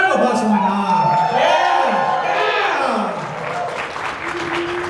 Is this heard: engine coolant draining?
no